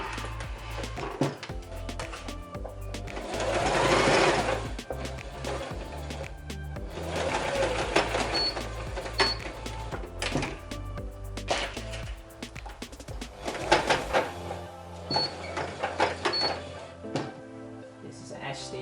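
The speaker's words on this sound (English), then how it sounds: "Okay, so let's start sewing." A sewing machine stitches a pencil skirt with pockets, running in steady close whirring bursts with a rhythmic needle clatter, pausing and restarting several times.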